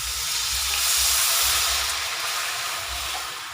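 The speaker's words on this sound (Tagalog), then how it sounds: "Lagyan na po natin ng tubig." Water is poured into a pan while sarciadong tilapia cooks, making a loud, steady hiss and splash that swells and then eases over a few seconds, with no talk.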